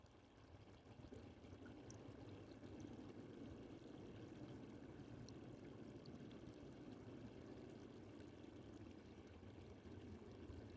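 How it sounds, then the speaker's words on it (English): Water from a small man-made waterfall pours and splashes in a steady broadband rush, continuous and fairly faint throughout, with no talk. "you should be hearing a relaxing waterfall sound"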